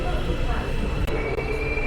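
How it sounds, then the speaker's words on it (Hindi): An Istanbul M4 metro train pulls into a station with a steady, loud rumble of wheels and motors, broken by a brief dip and a faint squeal partway through. "ये आ गई है भाई अपनी ट्रेन।"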